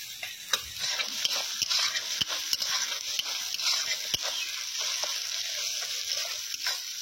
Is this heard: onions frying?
yes